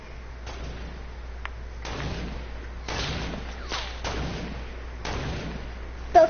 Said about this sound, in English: Those are bullets crisscrossing.